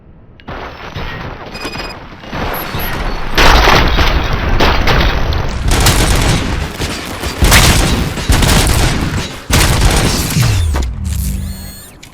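Heavy gunfire in the RoboCop: Rogue City shooter, with sustained loud bursts of automatic fire and booming shots in several long volleys separated by brief gaps, then a mechanical whir and fade at the end.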